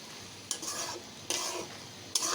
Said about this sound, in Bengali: এখন একটু নেড়ে ছেড়ে দিই